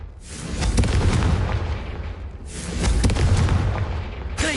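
Two deep booming blasts of the Confringo fire spell in Hogwarts Legacy, each swelling into a long rumbling roar, loud and close, with a third starting at the end.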